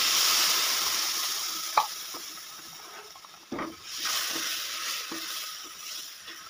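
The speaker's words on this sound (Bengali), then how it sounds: "আমি এখানে 500 দুধ দিয়ে দিলাম।" Warm milk poured into roasting semolina for halwa, a loud hiss and sizzle at first that eases, then a few knocks and renewed bubbling sizzle as the mixture is stirred, with no speech.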